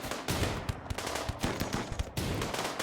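Revolver shots in the video game RimWorld, a series of sharp, fairly faint cracks firing in quick succession amid dense combat noise, with no voice.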